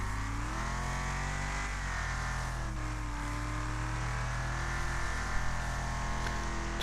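Race cars roar around a track in Wreckfest online racing, with a continuous close engine drone whose pitch rises and falls as they accelerate and shift, and no talking.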